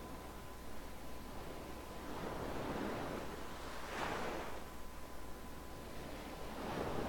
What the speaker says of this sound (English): Nice peaceful sound of waves in the background.